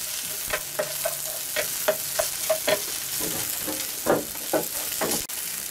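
Onion fries in olive or vegetable oil under a soft, steady sizzle, broken by repeated light scraping and stirring strokes. The strokes are close and fairly quiet, and no one speaks.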